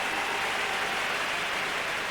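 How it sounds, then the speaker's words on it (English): Crowd at a Munster hurling final between Waterford and Tipperary cheers and claps in a steady, dense roar with no pauses, heard from a distance. "Big cheer"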